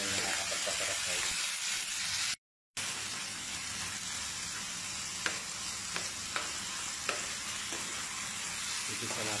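Garlic and onion sauté in a pan for a sopas soup, a continuous close sizzle broken by stirring scrapes and a few sharp clicks of a utensil against the pan, with a momentary cut near the start and no voices.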